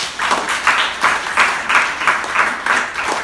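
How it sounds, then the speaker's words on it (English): A small debate audience at Birdfair 2019 claps steadily for a few seconds, a loose rhythmic patter of hands rising and falling, fairly close. "Let's have a round of applause for that point."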